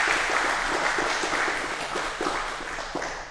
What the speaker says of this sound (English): Let's give Navina Nirda a round of applause.